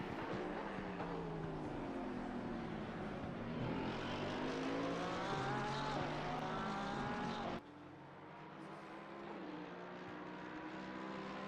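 Race cars in a sim racing video game, engines holding a loud sustained whine that rises and falls through gear changes, then drops abruptly to a quieter drone, with no talk.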